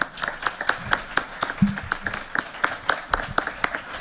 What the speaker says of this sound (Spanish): Pido un aplauso a los panelistas.